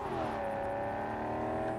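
Car engine in Cyberpunk 2077, a steady droning hum with a rising tonal whine as the vehicle drives, loud and continuous with no talk over it.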